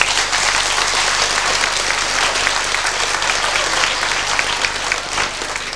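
Audience applause in a hall at a local event, a steady, dense wash of clapping that stays loud and even from start to finish with no voices standing out.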